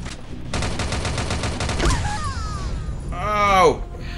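Gunfire in the mobile shooter Frontline Commando: Rivals, a rapid burst of automatic shots followed by a heavy impact and game sound effects, with a player talking over it.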